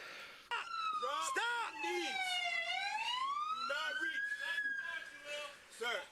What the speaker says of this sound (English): whoever left their siren on. That makes communicating way harder.